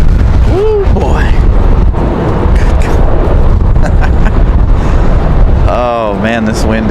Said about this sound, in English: Oh, man, this wind is fun.